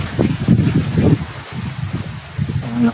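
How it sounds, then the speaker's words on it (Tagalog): Strong wind buffets the microphone in a steady, rough roar with gusty surges throughout. "Ang lakas ng hangin dito"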